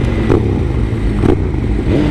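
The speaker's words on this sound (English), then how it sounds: "That 1098 sounds really nice with that exhaust." A Ducati 1098 with an aftermarket exhaust, heard from close range, emits a throaty, uneven twin-cylinder rumble with short rhythmic revs rising and falling about once a second, with no voices.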